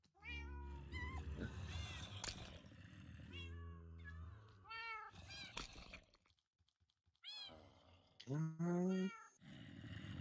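Cats meow repeatedly in a video game, some calls long and drawn out, others shorter, with low purring underneath and a brief quiet gap before a loud final yowl.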